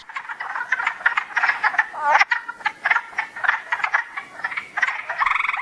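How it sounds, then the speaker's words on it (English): A dense chorus of wood frogs gives overlapping, duck-like clucking croaks that run on without pause, a busy mid-distance chorus with no voices over it. "wood frogs,"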